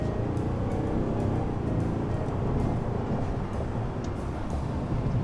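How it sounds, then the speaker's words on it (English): A 2023 Cadillac Escalade diesel SUV makes a deep, steady engine rumble with low drone and road noise during a U-turn, sustained and fairly loud with no talking. "If you guys, the roar of the engine."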